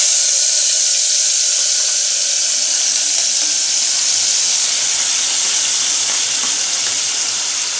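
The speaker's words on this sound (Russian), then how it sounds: "Я сейчас немножко масла сюда налью и будем обжаривать помидоры." Steady bright sizzling of tomatoes frying in hot oil, a constant hiss with faint crackles, close and unbroken for the whole stretch.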